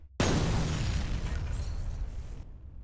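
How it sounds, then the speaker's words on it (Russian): A video game explosion in F.E.A.R. bursts in suddenly and loud, a broad roaring blast that rumbles and crackles with debris for about two seconds before cutting off abruptly, with no voices over it. "То есть взрыв здесь фактически неизбежен, хочешь ты его или нет."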